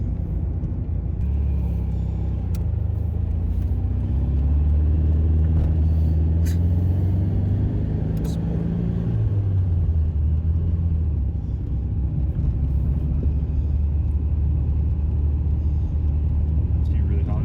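A 1974 VW Super Beetle engine droning steadily in third gear, a low continuous rumble heard from inside the car, with the pitch shifting as it pulls, and people talking over it.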